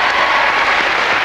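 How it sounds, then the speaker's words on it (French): A TV studio audience applauds during a 1995 variety show, a brief, loud, dense burst of many hands clapping at a steady level. "Applaudissements, mesdames."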